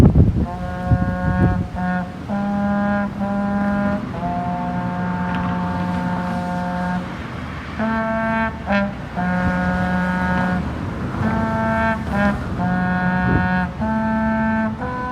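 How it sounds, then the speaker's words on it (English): A man plays a trombone on a street in Daytona Beach after Hurricane Matthew. Sustained brassy notes step up and down in a continuous melody, loud and close over a low rumble of wind and traffic. "there's this gentleman out here just playing his trombone"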